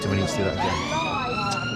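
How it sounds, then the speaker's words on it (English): Police and ambulance sirens wail past at Westminster in London during an emergency response, loud rising and falling tones filling the scene while a person talks over them. "you can probably hear some of the sirens and ambulance just going past right now"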